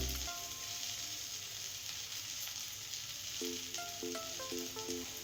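Layered colocasia-leaf vadi pieces shallow-fry in a pan with a steady, close sizzle and crackle, and light clinks of stirring join near the end.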